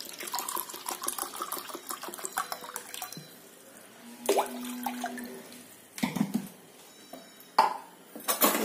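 Water being poured into a pot for making handi dal, one and a half glasses' worth, a continuous splashing, gurgling pour with a few louder bursts, close by and with no talk.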